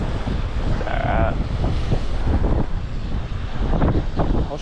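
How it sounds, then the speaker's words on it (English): Strong wind blows into the microphone at an urban pond, a loud, continuous rumbling buffet with gusty surges, and a brief voice partly buried under it. "Can't hear me, the wind's too bad."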